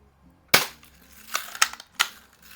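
Several sharp gunshots ring out one after another at a can target, the first loudest near the start, followed by three more spaced cracks with short decays and no talking.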